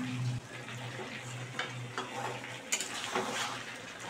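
A spoon stirs chicken curry with potatoes in a pot, giving soft scraping and clinking against the metal over a low steady hum, with a few sharper knocks near the middle and no talk.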